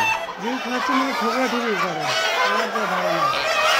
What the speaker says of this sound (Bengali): এই যে মোরগটা, এটা কিন্তু পারফেক্ট।